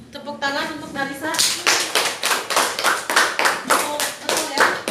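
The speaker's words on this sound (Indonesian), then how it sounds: "tepuk tangan untuk Darisa" Classroom clapping for a student during a teaching assessment, starting after a brief voice and continuing as steady, fairly close rapid applause from a group of people.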